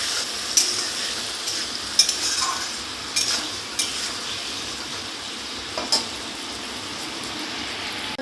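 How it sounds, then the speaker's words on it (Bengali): A spoon stirring ground white mustard paste in a cooking pan over a soft sizzle, with a few light scrapes and clinks against the pan, close and moderately quiet. "সাদা সর্ষে আমি জল করে বেটে নিয়েছি। ভালো করে একটু নাড়াচাড়া করে নেব।"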